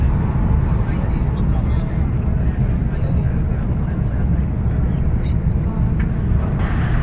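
A dense, steady roar fills the cabin of an airliner climbing into clouds after takeoff from Jeddah, loud and unchanging with a deep low rumble and a hiss above it.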